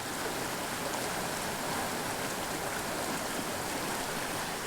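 A clear mountain creek rushing steadily, a continuous close, even wash of flowing water with no breaks and no voices.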